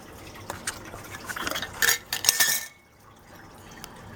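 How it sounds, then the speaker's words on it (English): Lukewarm water is poured and stirred with honey, giving splashy liquid sounds and a few clinking strokes against the container that build, then stop abruptly, leaving quiet room noise. "You take lukewarm water and you mix the honey with it."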